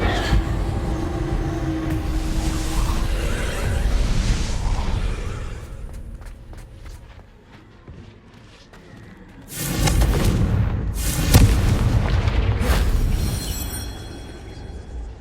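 Confringo fire spell blasting in Hogwarts Legacy, heavy booming explosions with rumbling tails, then a quieter stretch of scattered crackles before a second burst of loud detonations and crackling debris, no speech.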